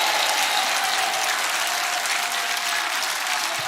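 A church congregation at a Purim service claps steadily and loudly, dense applause filling the room without a break and with no talk over it.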